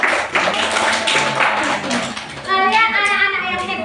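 Children clapping their hands together in a classroom, a dense burst of fast, close, loud claps that fades as young voices begin chattering and calling out.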